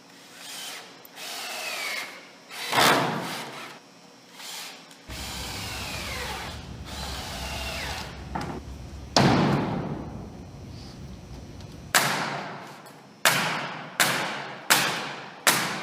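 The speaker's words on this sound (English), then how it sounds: "we're going to glue and screw the plywood floor" A power drill drives screws through plywood flooring onto a pallet shed floor frame. The high whine comes in repeated bursts, with pauses, thuds and a quick run of short bursts toward the end.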